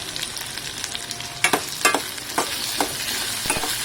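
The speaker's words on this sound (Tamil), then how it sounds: "ஒரு தக்காளி எடுத்து போட்டு அந்த தக்காளியை நல்லா வதக்கிக்கோங்க" Tomato sautéing in a pan for Tirunelveli tamarind curry, with a soft continuous sizzle broken by several sharp scraping clicks of a spoon stirring against the pan.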